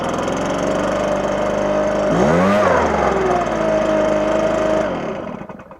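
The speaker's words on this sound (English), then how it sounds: "this is what starts the blower back up" A Stihl BR450c backpack leaf blower runs loud and close, its engine surging up in pitch with a brief rev before settling into a steady whine, then cutting off at the end.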